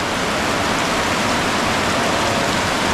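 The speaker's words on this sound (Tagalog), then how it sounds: "Malakas yung ulan." Heavy rain pouring down in a rural area beside a creek on a wet day, a dense, steady hiss of falling water that stays loud and unbroken throughout, with no talking.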